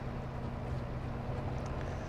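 A newer tractor drives through a field on a Saskatchewan farm, cutting through weeds and stubble. Its steady, rumbling engine drone and wind noise fill the whole stretch without a break.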